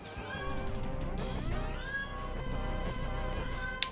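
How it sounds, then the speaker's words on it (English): A pet cat meows repeatedly in the background of a Mega Man X gaming session, drawn-out plaintive cries layered over game music and sound effects. "the meowing in the background is Mewtwo."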